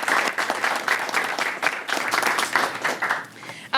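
Steady applause from an audience at a mayoral bill signing in the city, honoring the team, with dense clapping throughout that dips briefly near the end before rising again.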